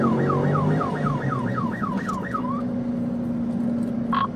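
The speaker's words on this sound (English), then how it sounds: "Said Deputy Meeks activated his lights and sirens to initiate a traffic stop." A police car siren wails in a fast rising-and-falling yelp during a dashcam traffic stop and high-speed chase, repeating about eight times over steady engine and road rumble before fading out.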